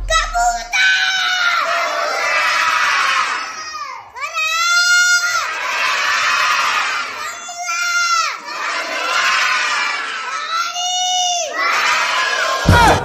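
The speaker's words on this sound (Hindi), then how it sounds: "क्लास में चिल्ला चिल्ला कर बोला जाता है रे।" Children in a classroom shout loudly in unison, a sustained chanting crowd of young voices rising and falling in repeated waves.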